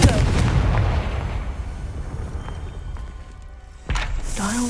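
The Confringo fire spell bursting in a video game: a loud, close blast opens the clip and rumbles away into quieter ambience, and a second sharp impact strikes near the end.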